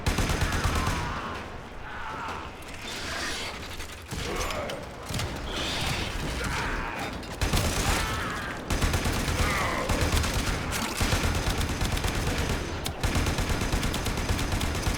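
Enemy gunfire in Warframe: dense, loud bursts of rapid shots and mechanical clatter crowd the game soundscape, with brief lulls between the volleys.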